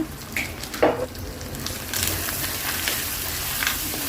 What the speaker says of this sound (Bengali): মশলাগুলো দেওয়ার পরে খুব ভালো করে নেড়ে নিচ্ছি